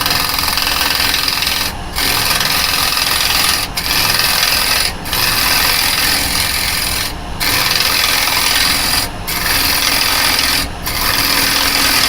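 A woodturning gouge cutting a tenon into a spinning workpiece on a wood lathe, a loud continuous scraping rasp broken by several short pauses as the tool lifts off the wood.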